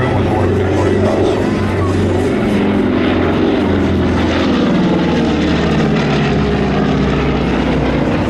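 A 78-year-old PBY Canso flying boat passes over a community charity airshow in Brantford. Its propeller engines give a loud, steady, throbbing drone, and a voice may be heard faintly beneath it.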